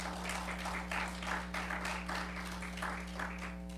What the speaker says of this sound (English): Let's give the Lord Jesus a hand clap of praise